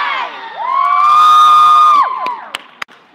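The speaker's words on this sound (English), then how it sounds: "we're cheering for them right now." At a gymnastics meet a crowd cheers in a loud, high, sustained cheer that swells for about a second and a half and then breaks off. A few sharp claps and shouts follow.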